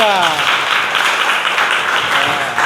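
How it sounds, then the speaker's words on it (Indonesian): A room full of people applauds a group after its class presentation, a dense wash of clapping that holds steady throughout, with a voice briefly audible at the start. "beri tepuk tangan pada kelompok 3"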